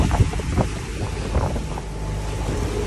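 Waves slapping and rushing against a sailboat in the Sporades under strong wind, with heavy wind buffeting on the microphone and irregular watery surges.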